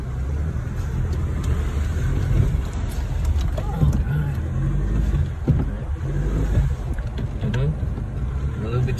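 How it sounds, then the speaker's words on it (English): A vehicle engine rumbles steadily while driving slowly along a narrow farm track between coconut trees, a low continuous drone with rattles and bumps, close by and moderately loud, with occasional faint voices. "You could hear the sound of the engine here."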